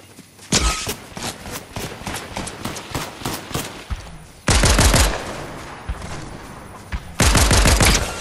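Rapid bursts of automatic gunfire in a Fortnite match, loud and close, with dense rattling volleys separated by brief gaps and two heavier sustained bursts near the end.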